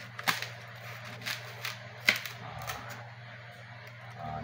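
A knife cuts into a homegrown red watermelon and the fruit splits open. A few sharp, quiet cracks and snaps come at irregular intervals with no voices.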